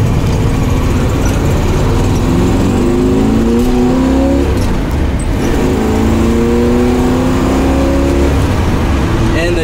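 A 1969 Chevrolet Camaro Z28 in Frost Green accelerates hard, its V8 engine note climbing in pitch through two strong pulls, loud and close, with voices at times under the roar.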